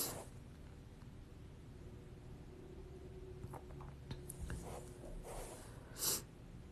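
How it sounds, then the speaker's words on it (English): A person sniffles faintly and close by, with several short sniffs in the later seconds and a sharper one near the end, over quiet room noise. "Sorry for sniffling in your ear"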